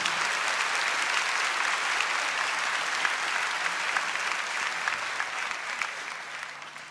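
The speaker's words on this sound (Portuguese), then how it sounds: "Pode aplaudir forte." Loud, continuous applause fills a church on the Corpus Christi feast as the congregation claps hard and evenly, staying strong before tapering slightly near the end, with no voices.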